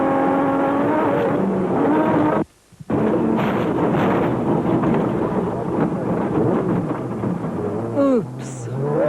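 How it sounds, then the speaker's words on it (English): Racing vehicles at the 2004 Toyota 1000, including a Team Ford Racing Ranger, roar continuously with loud engine drone and wind buffeting, broken by a brief drop near the middle before the noise surges back. "Woolridge and Scholthammer were on a charge in the Team Ford Racing Ranger and slowly closing in on the leading Nissan."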